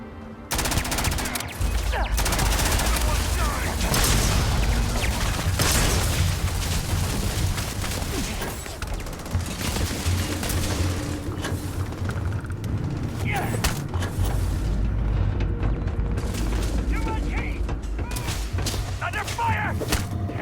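Sustained gunfire in the sci-fi video game Starfield, dense bursts of automatic fire and heavy booming shots rattling continuously and loud, with voices shouting over the battle at times.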